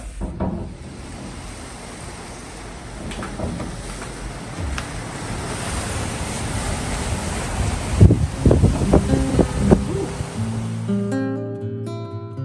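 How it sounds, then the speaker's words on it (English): Gusty wind buffets the microphone on a hotel balcony on Paros, Greece, a steady broadband rush with stronger gusts late on, then it drops away near the end. "It's a little windy today."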